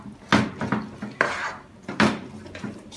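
A spoon stirs an egg vanilla mixture in a pot, several scraping, clinking strokes close by, spaced irregularly.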